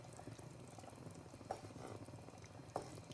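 Sri Lankan style ground-spice fish curry with sardines bubbling in a pot, a soft continuous simmer with small pops, faint and close, no talk.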